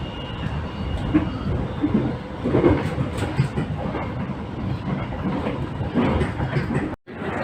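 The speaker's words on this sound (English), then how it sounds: "I'm just gonna get on this train now." A train rumbles steadily with rhythmic clattering of carriages and wheels on track, loud and continuous throughout, with a brief dropout near the end.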